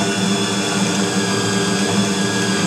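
A bowl cutter spinning at low speed while it mixes sausage meat for homemade sausages: a loud, steady motor drone with a constant whirring hum and no breaks.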